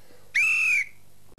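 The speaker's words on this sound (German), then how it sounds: "Und deswegen kriegst du jetzt den Pfiff." A single sharp whistle blast on a talk show, loud and close, lasting about half a second over a steady low background hum.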